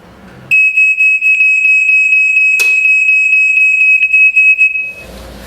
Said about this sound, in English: a very quick demonstration by pressing the test button on the smoke alarm